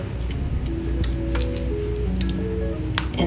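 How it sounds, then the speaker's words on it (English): Softened vinyl head of a Barbie doll squeezed by hand to press out trapped water, giving brief wet squishes and squeaky clicks scattered over a continuous low background hum, with no speech. "Now that the head is squishy enough, I'm going to get out the excess water."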